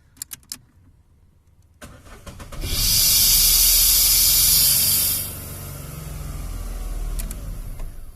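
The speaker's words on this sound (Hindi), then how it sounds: "मैं ब्रेक पैडल को जैसे ही प्रेस करूंगा तो बूस्टर के पास से आवाज़ आएगी।" A car engine starts, then a loud sharp hiss of air leaking at the brake booster as the pedal is pressed, lasting a couple of seconds before fading back under the idling engine.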